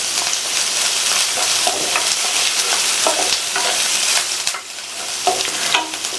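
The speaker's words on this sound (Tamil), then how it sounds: "எண்ணெய் சூடானதும் அதில் கறிவேப்பிலை இலைகள், ஒரு மீடியம் சைஸ் பெரிய வெங்காயத்தை இந்த மாதிரி நீல வாக்கில் கட் பண்ணி சேர்த்துட்டு இந்த வெங்காயம் நல்ல கலர் மாதிரி வர அளவுக்கு வதக்கிக்கோங்க" Sliced onion and curry leaves sauté in hot oil, giving a steady, loud sizzle broken by repeated scraping stirs against the pan.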